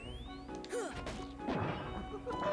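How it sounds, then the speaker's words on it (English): A pot in the Hundred Acre Wood of the Kingdom Hearts video game gets whacked repeatedly and shatters, sharp crashing hits over a layer of game music and effects. "Whack the nuts back of the pot to shatter it."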